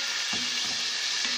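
Sliced vegetables sizzling steadily in hot oil for makhasi, with a spoon stirring now and then, close and continuous, and no talking.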